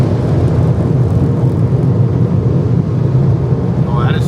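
Massive air blasters in a car wash drying tunnel roar continuously against a car, a dense, loud, jet-like rush of air that holds steady throughout.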